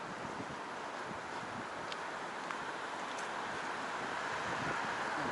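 Steady wind at night in downtown Toronto: a constant broadband rush, fairly faint and unbroken, with no distinct events and no talking.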